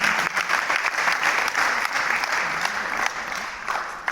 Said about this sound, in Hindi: एक बार जोरदार तालियां बजा करते हैं